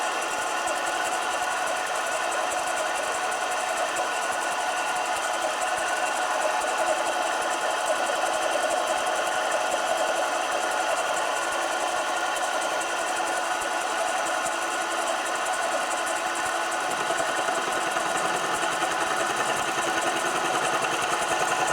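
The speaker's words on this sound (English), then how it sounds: "now I'm proceeding with the pass that takes the material off of the upper portion" A 7x10 variable speed mini lathe mills a slot into a metal workpiece, giving a steady, unbroken mechanical whir and grinding hum that holds at an even level throughout.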